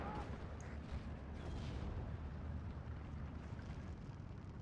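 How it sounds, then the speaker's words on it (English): Heavy 81mm mortar fire in Steel Division 2 pounding a German Pak 38 anti-tank gun position, a continuous dense rumble of distant impacts and battle noise rolling on throughout. "Whilst the Pak 38 is under heavy 81mm mortar fire."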